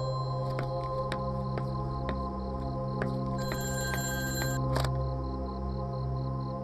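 An old-style telephone bell rings in a quiet home at night, with a repeated electronic ring sounding faintly under a steady background hum and no speech.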